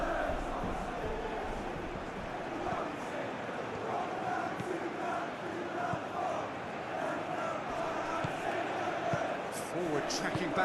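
A stadium crowd in a simulated Champions League football video game keeps up a continuous roar and murmur while a commentator talks over it.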